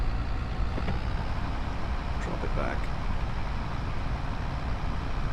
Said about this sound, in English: See their revs just over 10. Engine's struggling a bit.